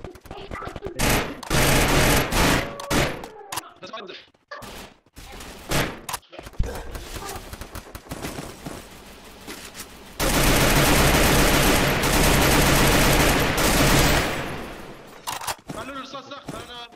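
Gunfire erupts repeatedly in the mobile shooter Free Fire: bursts of rapid automatic shots and a long sustained volley. Players talk excitedly over and between the shots.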